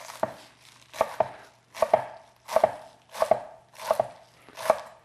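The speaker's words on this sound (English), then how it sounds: "Basically we just roll the kale up, and we're just wanting to cut it very finely." A knife finely slicing rolled kale leaves on a cutting board, seven crisp, evenly spaced chopping thuds in a steady rhythm, close and clear with no talk.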